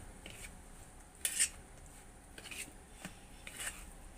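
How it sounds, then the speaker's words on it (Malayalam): A spoon stirs beetroot-coloured idiyappam flour with boiling salted water in a bowl, giving faint, sparse scrapes and a few sharper clinks of utensil against the dish at irregular intervals, with no talking. "നമുക്ക് നന്നായിട്ടൊന്ന് ഇളക്കിയെടുക്കാം."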